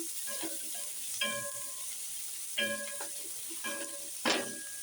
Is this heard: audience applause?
no